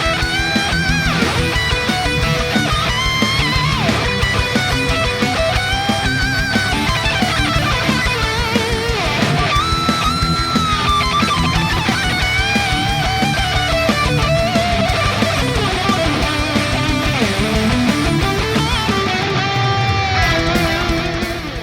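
Electric guitar solo from an original song, full band backing with sustained, bending lead lines and fast runs, loud and continuous throughout with no talking.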